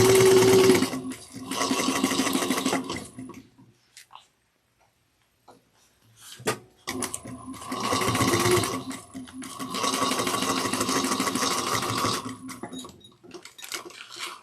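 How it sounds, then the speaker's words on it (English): Sewing machine basting fabric pieces with a 1/8-inch seam, fast close mechanical rattling in bursts separated by a quiet pause and small handling clicks. "I'm just going to baste this on using 1/8 of an inch"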